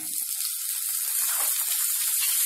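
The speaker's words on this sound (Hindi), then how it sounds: "एकदम स्लो फ्लेम से टोमेटो को सॉफ्ट होने तक भून लेंगे" Tomatoes and carrots fry over a slow flame with a steady, hissing sizzle that holds at an even level throughout.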